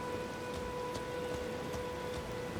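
Steady rain falls in the open world of Elden Ring, a soft, even patter with no voices over it and a faint tone running steadily underneath.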